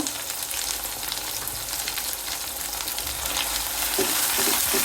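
Ginger and garlic paste being stirred and fried in a pan for chicken jhura, a loud, close, continuous sizzle with soft scraping strokes that grows slightly stronger toward the end.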